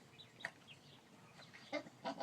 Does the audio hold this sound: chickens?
yes